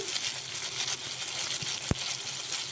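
Eggplant and potatoes fry in oil with spices as they are stirred, giving a steady, fairly quiet sizzle with a couple of soft knocks from the stirring utensil.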